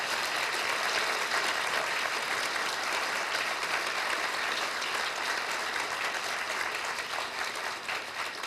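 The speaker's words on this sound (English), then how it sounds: "please give these candidates a warm round of applause" A forum audience gives a warm, sustained round of applause for the candidates at a 2013 community candidate forum: dense, even clapping that fills the room and tapers slightly near the end.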